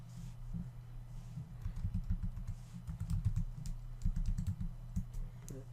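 Fingers tap out a password on a computer keyboard at a website login setup, with quick, soft, closely spaced keystrokes in bursts and brief pauses, close and fairly quiet with no talk.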